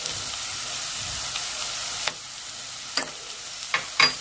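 Spices, turmeric, red chili and chili flakes being stirred in a hot pan for soya Manchurian, a steady hiss of frying with a few clinks of the spoon near the end.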